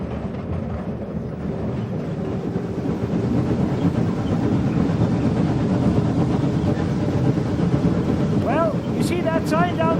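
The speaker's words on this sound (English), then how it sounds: "Now he's slowing the train down a little bit with a brake." The California Skunk Train rumbles along as the brake slows it, making a steady rolling and clattering noise from the carriages. Someone talks over it, and short tonal squeals come in near the end.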